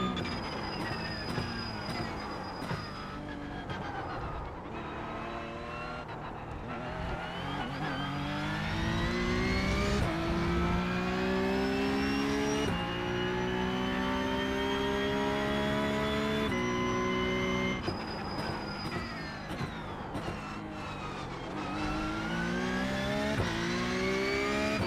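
Porsche race car in the iRacing simulator, its engine revving up through the gears with a loud, piercing gear whine that rises in pitch, drops at each shift and climbs again, steady and close with no talk.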